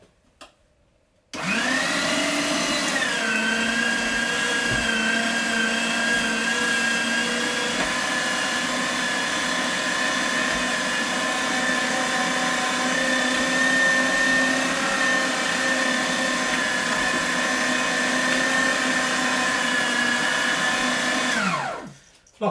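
A cheap electric meat grinder runs steadily with a loud, constant motor whine while meat is fed through, starting abruptly and stopping near the end, with no talk over it.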